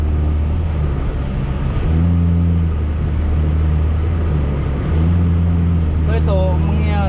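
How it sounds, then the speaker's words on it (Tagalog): A Toyota Vios engine fitted with a Datatec throttle controller runs at steady idle, its low hum swelling into a couple of brief rev-ups, with a voice speaking over it near the end. "nabibirit mo yung RPM. Pag piniga natin yung silinyador, binibigay niya"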